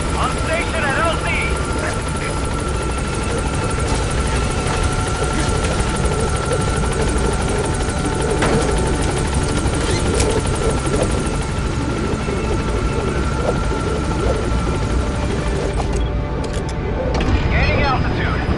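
A Metal Gear Solid V support helicopter arrives at the landing zone, its steady rotor and turbine roar filling the whole scene at constant loudness, with voices talking over it throughout.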